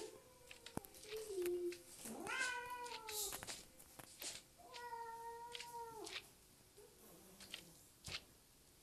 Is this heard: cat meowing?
yes